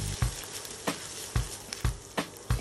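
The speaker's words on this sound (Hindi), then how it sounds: "इसके बाद मैं इसमें गार्लिक डाल दूंगी और ये जिंजर, इसको आप अच्छे से मिक्स कर लें" Garlic and ginger frying in hot oil in a pan, stirred with a spoon for a restaurant-style hot and sour soup: a continuous sizzle punctuated by five or six sharp scrapes against the pan, close up with no voices.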